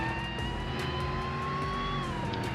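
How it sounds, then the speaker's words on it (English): Supercharged sedan engine in a Roblox driving game, a steady close engine drone with supercharger whine that rises slowly in pitch, continuous and loud with no talk. "I do love the way the supercharger sounds on this thing."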